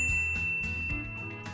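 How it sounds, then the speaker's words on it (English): A notification bell dinging, bright metallic chimes ringing out in quick succession over a soft musical backdrop, clear and close. "ring the bell to be notified about our latest videos"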